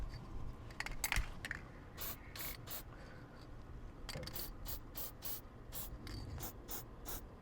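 Short bursts of dry lube spray hiss onto the coupler, hitch ball and stabilizer parts of a pop-up A-frame camper, about a dozen quick squirts in an uneven rhythm, close by, with light handling clicks between them.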